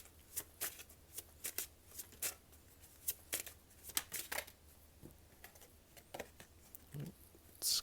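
Tarot cards being shuffled and drawn by hand, a quiet run of soft riffling flicks and snaps spaced irregularly, close and gentle with no talk over them.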